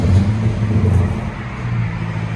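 Chrysler 300C with a 5.7L HEMI V8 and aftermarket exhaust: a loud, steady, deep engine rumble held close by for a couple of seconds, with no clear rev peak.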